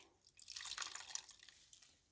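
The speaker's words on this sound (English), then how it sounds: "I'm going to gently squeeze water out of this" Water drips and trickles from dyed Cheviot faux cashmere yarn as it is gently squeezed, a soft, close, irregular patter of drops that swells briefly and then thins out, with no voices.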